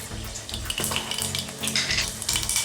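Quarter teaspoon of mustard seeds hitting hot oil in a small pan, a close, bright sizzle with crackling pops and a few light clinks of a utensil against the pan.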